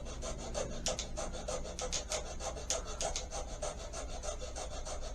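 Hand filing on an old Atlas refurb, a close, soft rasping stroke repeated in an uneven back-and-forth rhythm, roughly two strokes a second, with no talking.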